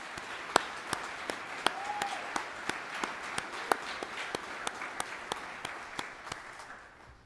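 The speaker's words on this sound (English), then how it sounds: "let's acknowledge these students and their hard work with a round of applause" Applause from the audience at a spring nursing pinning and graduation ceremony honoring nursing graduates, steady moderate clapping with distinct louder individual claps standing out, continuing for several seconds at a fairly distant level.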